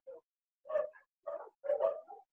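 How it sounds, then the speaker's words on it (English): Dogs bark in short, separate bursts, four or five barks over a couple of seconds, clear and moderately close with silence between them. "Can you hear the dogs?"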